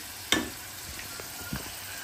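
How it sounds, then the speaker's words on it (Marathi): Onion gravy is tipped into a hot pan and hisses sharply on contact, then settles into a steady close sizzle, with a couple of soft stirring knocks. "आपण आता ग्रेव्ही आहे ना ती वगैरे टाकून देऊया कांद्याची"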